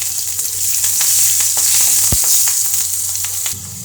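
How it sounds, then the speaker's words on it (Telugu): Mustard seeds, asafoetida and green chillies fry in hot oil for dhokla tempering, giving a steady, loud, close sizzle with small crackles and a single sharp pop. "నూనె వేడైన తర్వాత కొన్ని ఆవాలు తర్వాత హింగు వేసుకోవాలి తర్వాత పచ్చిమిర్చి వేసి"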